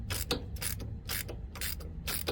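A ratchet wrench clicks in repeated bursts as bolts are tightened in turn to press a bearing onto a CAT HM418C mulcher, about five rapid clicking strokes close up with no voices.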